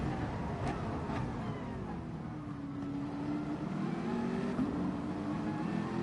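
Race car engine in a sim racing game, a steady droning note that dips and rises as the throttle is worked through a chicane, heard fairly loud and continuous with no voices.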